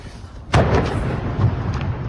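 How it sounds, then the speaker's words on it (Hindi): A sudden heavy blast from rocket fire booms out, followed by a rumbling, rolling aftermath and a second dull thud, like distant missile explosions. "धमाके की आवाज सुनाई दे रही है"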